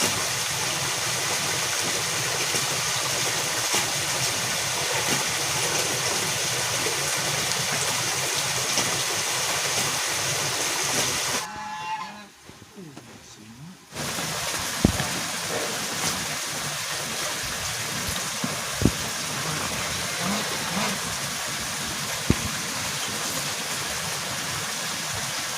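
Steady rain patters down on a hut roof in a broad, continuous wash, briefly cutting out for a couple of seconds before resuming with occasional sharper drops and clatters, while a meal of stir-fried cassava leaves and omelette is cooked.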